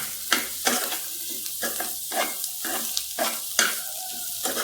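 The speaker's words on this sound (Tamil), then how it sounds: "நல்லா கிளறி விட்டுக்கோங்க" Mutton lung fry being stirred in a pan with masala, a spoon scraping through it in repeated bursts over a steady close sizzle, with no talking.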